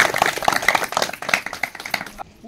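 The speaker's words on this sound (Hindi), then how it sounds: "ताली बजा रहे।" A crowd claps at a village gathering in Uttarakhand, the applause a dense, busy rattle of many hands that runs steadily for about two seconds and then stops abruptly.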